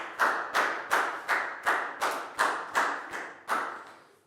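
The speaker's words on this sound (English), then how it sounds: "Big round of applause for Pak Bung" A primary school class claps for a student in a Year 4 maths lesson, about ten evenly spaced loud claps in unison, close and distinct.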